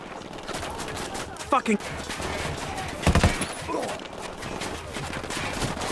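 Gunfire in the video game Ghost Recon Wildlands, a couple of short sharp bursts over a constant game ambience, with a voice speaking briefly.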